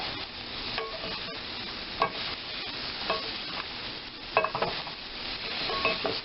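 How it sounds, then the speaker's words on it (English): Green beans tossed in a pan with melting butter, salt and pepper, giving a steady soft sizzle with repeated stirring scrapes and light clinks throughout, close and alone with no talking. "we keep tossing that until the butter has completely melted"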